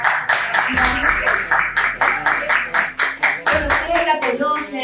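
Crowd clapping in a steady burst of applause at a televised Chilean talk show, with a voice talking over it.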